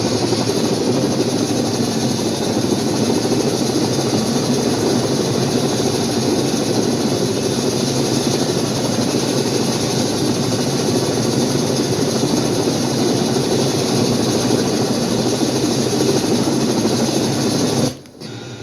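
Simulated HH-46 Sea Knight helicopter engine in the flight simulator FSX, a loud, steady rotor-and-turbine roar that fills the whole clip without a break before cutting off abruptly near the end.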